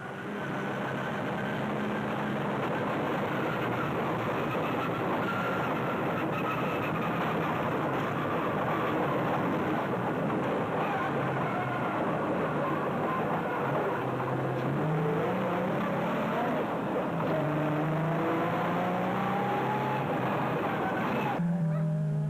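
Nissan Hardbody rally bakkie engine heard from inside the cab at the Sugarbelt 400, a loud, steady drone with revs rising and falling through gear changes, continuous throughout with no speech.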